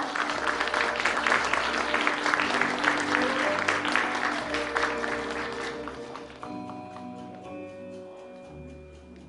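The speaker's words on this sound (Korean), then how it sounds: "안광복 선생님 박수를 부탁드리겠습니다." Audience applause welcoming a philosophy teacher onto the stage at a Korean literary café lecture event, a dense, sustained round of clapping that tapers off after about six seconds as tones and a voice emerge.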